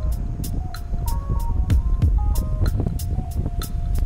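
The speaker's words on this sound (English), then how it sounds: "You hear that loud, noisy water heater?" A loud, noisy water heater runs in a basement, a heavy droning hum with a pulsing, throbbing rhythm and repeated sharp ticks and knocks over it.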